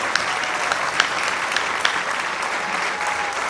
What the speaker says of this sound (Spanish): Un aplauso muy fuerte a los ingenieros militares, al general Cervantes Loza.